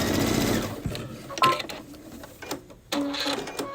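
Sewing machine running a straight topstitch with a Brother bi-level foot along a fabric edge, a steady close mechanical whir with brief pauses and a restart near the end.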